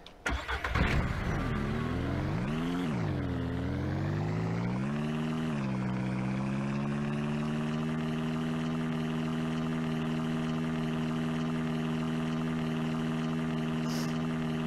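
A car engine in Ranch Simulator cranks and catches, revs briefly twice, then settles into a steady, loud, continuous idle that runs to the end.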